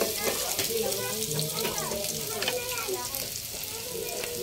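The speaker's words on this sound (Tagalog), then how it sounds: "Medyo nag-brown brown na yung bawang natin." Garlic sizzling steadily in a pan while sautéing for shrimp and mussels cooked in coconut milk, a continuous close frying crackle with a spoon stirring, while a person talks over it throughout.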